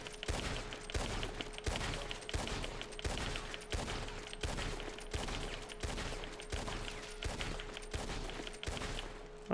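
A repeater rifle in Red Dead Online is emptied in rapid fire: a steady string of about fourteen sharp, loud shots spaced evenly around two-thirds of a second apart, with no talking.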